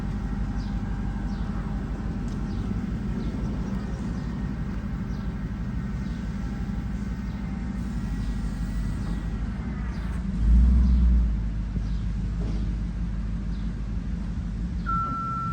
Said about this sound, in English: Gonna show you the elevator going up and down.